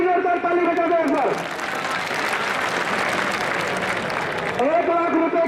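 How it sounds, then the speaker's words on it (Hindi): A crowd claps at an outdoor village wrestling match, a dense burst of applause in the middle of the stretch, framed by a man's amplified, singsong announcing voice at the start and end. "ताली बजा दो एक बार।"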